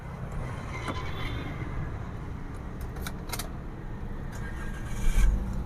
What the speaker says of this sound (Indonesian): Biarinlah mesin hidup.